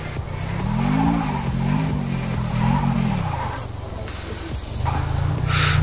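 A car engine in the Car Parking video game hums steadily nearby with shifting pitch, as if idling and revving slightly, over broadband road noise.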